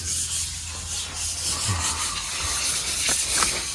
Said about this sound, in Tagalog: Nililiha na ni Junjun.